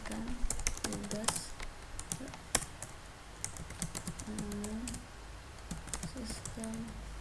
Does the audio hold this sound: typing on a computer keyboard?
yes